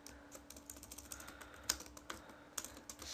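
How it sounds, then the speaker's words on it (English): Computer keyboard being typed on while entering programming code, an irregular patter of quick, light key clicks, faint and close with no talk. "if I can type"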